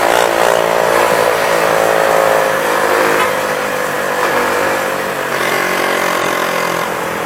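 A small motorcycle's engine runs steadily and loudly nearby with a smooth, even drone and slight shifts in pitch, and nobody speaks.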